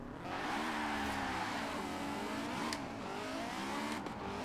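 Honda S2000 with a stock, upgraded engine launching hard off the start line in Forza Horizon 4, its engine revving loud and steady with rising harmonics and a brief tire chirp.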